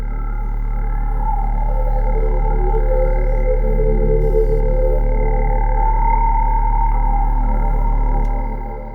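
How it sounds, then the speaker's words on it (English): A dark, evolving synth pad from the Pigments preset Evolving Darkness plays for psytrance. A deep sustained bass drone sits under shifting tonal layers that slowly sweep and swell, loud and continuous, then fade at the end. "I chose a preset from my second Pigments preset pack, the preset called Evolving Darkness"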